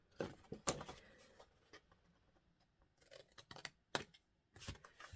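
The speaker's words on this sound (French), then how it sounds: "Je vais prendre un petit ciseau et sur les côtés, je vais couper ce qui a été coupé" Small scissors snip paper on a diagonal while trimming the sides of a folded paper pocket, giving a few sharp, close cutting crunches separated by quiet pauses.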